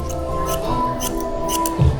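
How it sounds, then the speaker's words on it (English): Barber's scissors snip through hair at a salon in Shenzhen, China, a quick series of close, crisp metallic clicks repeating in an uneven rhythm over soft background music. "Okay, and now he's going to continue with the scissors."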